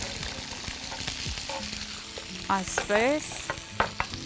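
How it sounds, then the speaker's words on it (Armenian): Mushrooms frying and being stirred in a pan alongside green beans, a steady sizzle under repeated scraping stirs, with a brief spoken word near the start. "հիմա պետք է տապակենք սունկը և կանաչ լոբին"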